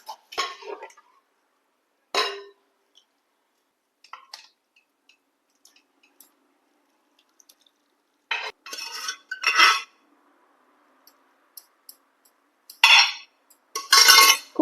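Pots and utensils clank and clink in a kitchen while cooked dal comes out of a pressure cooker, with scattered bursts of metallic handling between quiet gaps.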